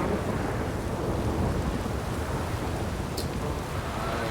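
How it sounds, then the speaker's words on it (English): Thunderstorm in The Witcher video game: heavy steady rain roars throughout with deep low thunder rumbling continuously, loud and close, with no voices. "A storm, damn it."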